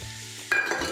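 Chicken meat drops into hot frying oil for a Kerala adai, and a quiet murmur of oil gives way to a sudden, bright, loud sizzle that continues steadily, close by.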